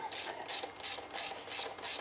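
A ratchet wrench tightens an intake manifold bolt on a Rover engine during an Edelbrock carburettor kit installation. The steady, rhythmic clicking comes in repeated strokes, close but quiet, with no talking.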